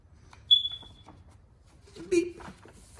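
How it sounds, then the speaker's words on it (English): A single short, high electronic beep sounds early on, followed a moment later by a brief, muffled voice over quiet room noise. "I think every time we hear a beep, I'm supposed to turn the page"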